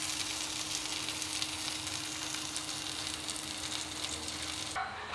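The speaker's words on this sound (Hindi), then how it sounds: "आँच मीडियम ही रहेगा। अब इसमें अपना टिक्की डालेंगे, ऐसे ही करके सारे टिकिया इसमें डालेंगे।" Paneer tikkis fry in a pan over medium heat, giving a steady, soft, even sizzle that cuts off abruptly just before the end.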